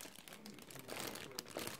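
A paper vegetable bag from a carrot box delivery crinkles and rustles close by in short bursts, quiet and uneven, with no one talking over it.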